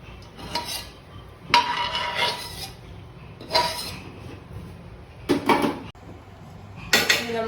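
Fried rice-flake chivda being tossed and stirred in a pan with a spoon, several separate bursts of scraping and clinking of metal against the pan with quiet gaps between them, close and clear.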